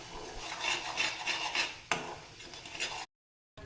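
A spoon mixing poha and suji snack batter with spices in a bowl, giving a close, rhythmic rasping scrape with one sharp knock midway before the sound cuts off.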